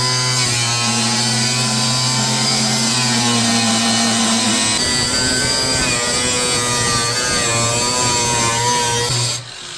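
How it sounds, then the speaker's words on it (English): An angle grinder cuts through rusted body metal on a 1982 Ford Fairmont, a loud, continuous high whine that shifts in pitch as the disc bites, then stops abruptly at the end. "Now it's time to take my new favorite tool and cut that where it's marked."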